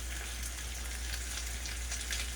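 A thick salmon steak frying in a pan makes a steady, close sizzle with fine crackling spatter that runs evenly through the clip. No voices are heard over it.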